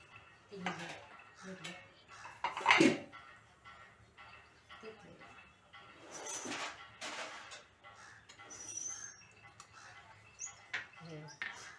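Plates and a pan clink and clatter as cabbage appe are served, several sharp knocks with one loud clang early on, heard alongside talking.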